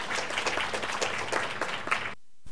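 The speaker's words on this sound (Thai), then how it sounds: "ขอเสียงปรบมือค่ะ" Audience applause welcoming a speaker at an indoor lecture event, a brisk burst of clapping that cuts off abruptly near the end, leaving near silence.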